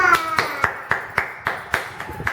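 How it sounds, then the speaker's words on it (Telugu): Hands clap about nine times in a steady, even rhythm, close and crisp, alongside children's nursery rhymes. "క్లాప్స్."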